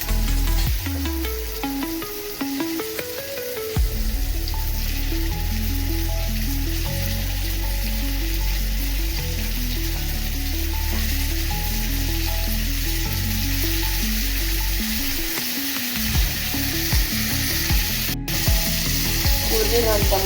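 Eggplant for North Karnataka-style badanekayi ennegayi sizzles loudly and steadily in hot oil, a dense continuous crackle with occasional clinks and scraping of stirring throughout.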